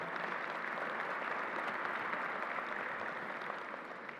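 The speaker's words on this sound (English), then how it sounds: "Let's give them a round of applause for being here today." Audience applause at a government ceremony honouring the New York National Guard, a steady, fairly distant wash of many hands clapping that holds evenly throughout and fades slightly at the end.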